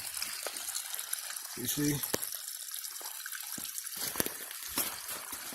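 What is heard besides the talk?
water trickling continually from a river source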